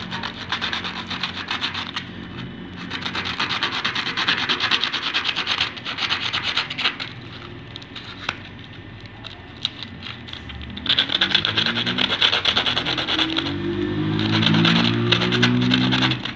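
Cut fabric rubbed firmly by hand and pressed flat, as part of sewing work tied to thread breaking on a Jack sewing machine. It makes a close, fairly loud, continuous back-and-forth scraping rasp that swells in stretches, with no talking.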